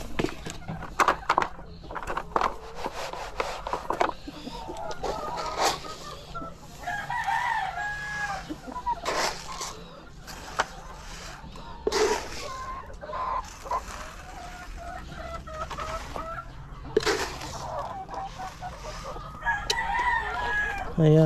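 Dekalb Brown laying hens cluck steadily nearby at feeding time while a rooster crows in the background, with scattered clattering sounds and faint voices mixed in.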